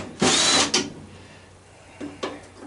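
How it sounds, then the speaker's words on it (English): A power driver backs screws out of a fan inside a furnace being scrapped, with one loud whirring burst followed after a pause by two shorter bursts. "I'm going to see if I can get to these screws here."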